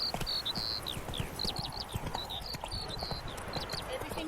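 Roach the horse gallops in The Witcher 3, a quick steady clip-clop of hooves over ambient game sound, with chirpy high calls and a voice speaking over it.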